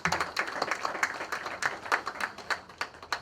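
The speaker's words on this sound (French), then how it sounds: "Sous vos applaudissements." An audience at a celebration of African writers claps briskly, a modest scattered applause with sharp individual claps. It sounds fairly close and fades out quickly.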